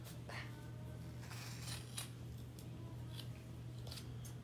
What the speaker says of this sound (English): cutting down kind of the spine